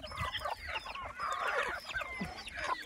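Farm hens let out into the open, clucking and chattering close by in a dry rural setting, with overlapping calls and short squawks and no talk.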